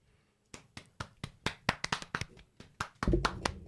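Audience clapping: a run of distinct, fairly close hand claps at an uneven rhythm that thickens into quicker overlapping clapping near the end.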